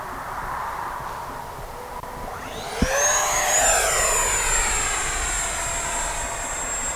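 A BAE Hawk 50mm EDF RC jet plane flies past, its electric ducted fan whine rising sharply into a loud, steady high-pitched scream that holds over several seconds at close range.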